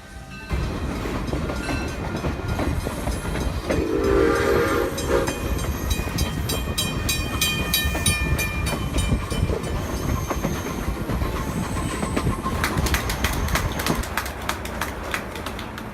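A small locomotive train in Old Sacramento rumbles along steadily on the rails with rhythmic clicking and metallic squeals, and a short whistle sounds partway through.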